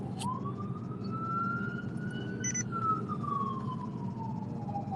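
A single emergency siren wails in one long rising and falling sweep, steady and moderately distant over a low traffic rumble, with no talking.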